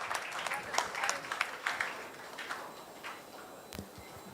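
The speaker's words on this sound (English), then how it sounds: "Can we have a round of applause for her?" Audience at an ICSSR-sponsored event claps in a modest, scattered round of applause, fairly faint and thinning out after a few seconds, with some voices underneath.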